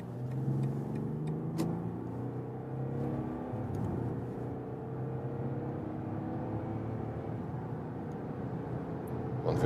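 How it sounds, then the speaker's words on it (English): A luxury sedan accelerates hard on an unrestricted German motorway, heard from inside as a steady, muffled engine drone with rising tones and road rumble, quiet and continuous. "we'll start at about 50 kilometers an hour and accelerate it out."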